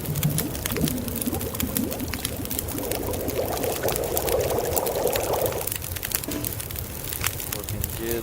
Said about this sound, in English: Boil that baby up.